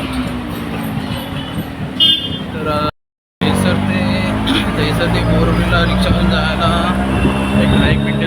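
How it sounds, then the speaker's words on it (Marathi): Auto rickshaw ride from Dahisar to Borivali in Mumbai: a steady loud engine drone and road rumble with traffic noise and a short horn, a brief dropout midway, with people talking over it. "दहिसरहून आता रिक्षा पकडली बोरवल्या जायला"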